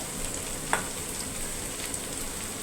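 Onions sautéing in a pan give a steady, even sizzle at close range, with a single brief clink of a utensil near the start and no voices.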